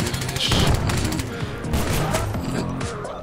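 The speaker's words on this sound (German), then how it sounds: "Woher kam denn der Schuss?" Gunfire bursts crackle in Battlefield: Bad Company 2, loud and close with several rapid shots and rattling fire over game ambience and low rumbling.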